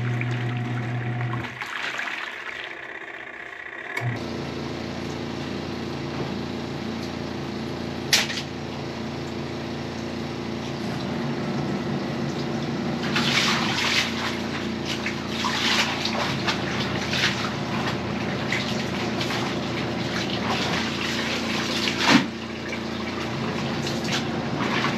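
Water runs steadily during hand-washing of laundry, a continuous rushing flow with a pause early on, then sloshing and splashing bursts and a couple of sharp knocks.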